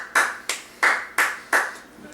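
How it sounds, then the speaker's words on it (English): Five slow, separate hand claps, close and fairly quiet, evenly spaced with short pauses between them, and no other sound around them. "I just give you a good round of applause and a big old thumbs up"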